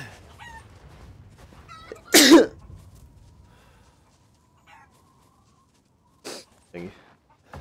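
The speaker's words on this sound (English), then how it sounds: "I feel like I'm about to sneeze." One sharp, loud sneeze bursts out of a quiet room, followed by a few fainter short sounds and soft talk.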